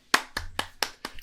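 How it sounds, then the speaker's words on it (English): Hands clapping in a short round of applause, five distinct sharp claps at an even, slightly slow rhythm, close and fairly loud with nothing else heard. "round of applause"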